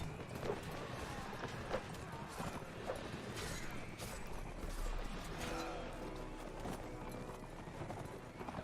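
Horse hooves clip-clop in a steady, quick rhythm on the ground in a video game, with clattering movement sounds around them, fairly loud and close.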